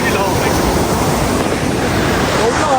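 Water flowing out of Lake Saiful Muluk, a steady loud broadband rush with wind buffeting the microphone, continuous and unbroken throughout.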